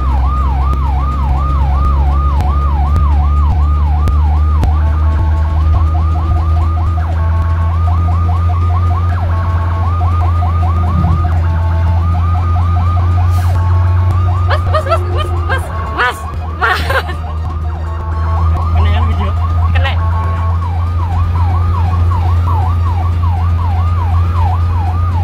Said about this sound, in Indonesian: Padahal sirine ambulans terdengar jelas menyala